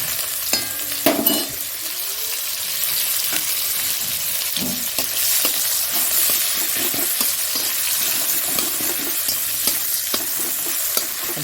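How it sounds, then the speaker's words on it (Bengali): Onion drops into hot oil with black cumin in a pan used for frying fish, hissing and sizzling loudly and steadily while a spoon scrapes and stirs at close range with no voices. "আর এই পেঁয়াজটা দিয়ে দিচ্ছি"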